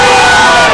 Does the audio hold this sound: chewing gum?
no